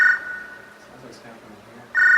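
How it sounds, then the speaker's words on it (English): A telephone rings in short electronic trilling bursts, one at the start and another at the end, with a quiet pause between. "It's ringing again."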